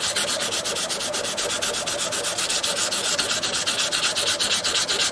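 Sandpaper worked by hand over the wood of a custom 12-string dreadnought guitar, a steady rhythmic scratching of quick back-and-forth strokes, close and alone with no talk.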